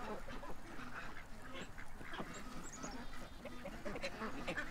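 A flock of ducks and geese in a rushing crowd fills the scene with overlapping quacks and honks, a steady noisy chorus of many birds close by, with scattered higher calls cutting through.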